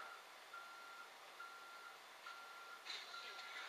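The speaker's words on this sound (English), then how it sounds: "that beeping is just because I'm in a dumb little trash master." Reversing beeps from a garbage truck in a video game, a faint, evenly spaced electronic beep repeating about once a second over a soft engine hum, with a brief brighter chirp near the end.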